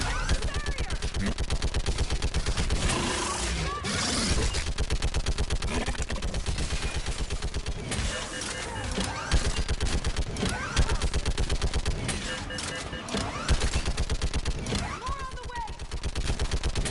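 Sustained video-game gunfire from Mass Effect 3, a dense run of rapid shots and bursts loud throughout, with shouted voices mixed in during a battle near a bridge.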